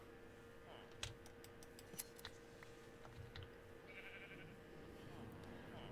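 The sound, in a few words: sheep bleating in the video game Minecraft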